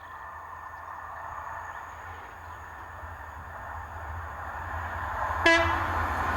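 An HST high-speed diesel train rumbles steadily and builds as it nears, then gives a short, loud horn blast just before the end.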